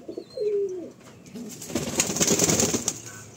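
Female pigeons kept at home, a mix of white and Fulsira hens, give a short low coo followed by a longer run of rustling and fluttering, all fairly quiet and close.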